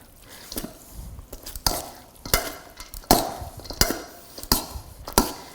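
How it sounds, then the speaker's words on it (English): An Asian noodle salad is tossed with its dressing in a bowl, giving about eight rhythmic, close clattering, slapping strokes at a steady pace with quiet gaps between them. "Put in the salad dressing. And then toss it all up together."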